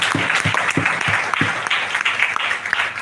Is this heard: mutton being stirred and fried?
no